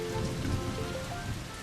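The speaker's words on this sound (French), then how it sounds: "Il pleut sur l'aire de jeu" Steady rain patters on a hard surface over a playground in a cartoon, a dense, even hiss of drops with no voices.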